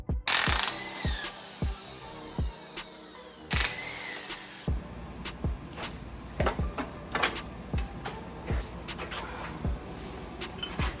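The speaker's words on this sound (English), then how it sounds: "So basically just go down and undo all the rocker arm bolts." Ratchet clicking while undoing rocker arm bolts on an LS6 V8 during teardown: repeated close, sharp metallic ratcheting bursts with short pauses, spread across the whole stretch.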